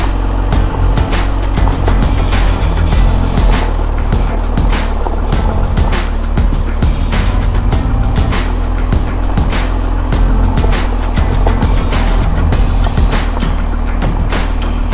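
BMW R1250 GSA motorcycle cruising in second gear on a mixed road, a steady continuous engine drone with heavy wind rush throughout, loud and close as from the rider's position, no voices.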